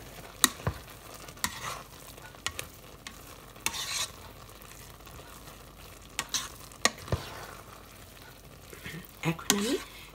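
A spoon stirs pilaf inside a rice cooker, giving intermittent scraping and tapping against the pot over a soft steady hiss of cooking, with no talking.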